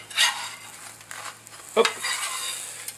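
Food sizzling and frying in a hot pan as it is flipped, with a quick clatter of utensil on cookware near the middle and a short exclamation from a voice.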